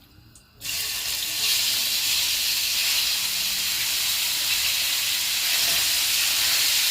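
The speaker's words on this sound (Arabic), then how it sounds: "بسخن الطاسه بتاعتي، بنزل فيها بنص معلقه زيت الزيتون، والنص التاني هوريكي هعمل فيه ايه. وبروح نازله مديه الفراخ صدمه" Chicken sears in olive oil in a hot pan: after a brief quiet moment, a loud sudden sizzle bursts up and holds as a steady bright hiss for several seconds.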